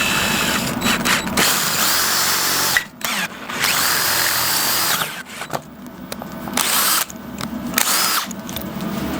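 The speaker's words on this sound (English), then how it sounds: "I'm just going to use a drill to clean the hole out" A power drill whirs loudly and steadily, cleaning out a hole in a steel plate to 8mm, with brief pauses and restarts, grinding and chattering as it bites.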